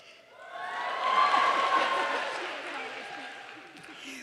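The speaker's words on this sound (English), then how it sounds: "Cheer if you recognize yourself." A high school graduation crowd cheering: a broad swell of shouts and applause from many people that rises and slowly fades, with a voice faintly over it.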